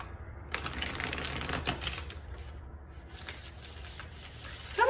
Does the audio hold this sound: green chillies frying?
no